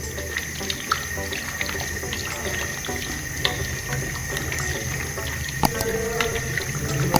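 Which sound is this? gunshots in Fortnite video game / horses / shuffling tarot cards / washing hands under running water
washing hands under running water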